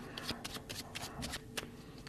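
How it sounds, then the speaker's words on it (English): A deck of playing cards is riffled and cut in a G.W. Hunter false shuffle, producing quick, close, papery flicks and snaps in an irregular burst of strokes, with no voices. "one of the great classics of false shuffles, the G.W. Hunter shuffle"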